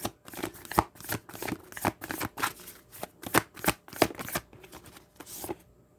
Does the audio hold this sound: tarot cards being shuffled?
yes